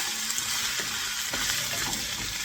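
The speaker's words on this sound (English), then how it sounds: "I'm just gonna saute the meat with the onions, the garlic," Pork hock sautés with onions, garlic and annatto seeds for Filipino kare-kare, a steady loud sizzle and crackle of frying with faint stirring scrapes, close up and without talk.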